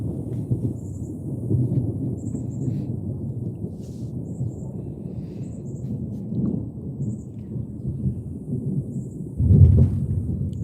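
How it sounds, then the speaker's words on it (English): Low thunder rumbles continuously in the distance, swelling slightly in the middle and growing into a louder rumble near the end. "Y'all hear it thundering?"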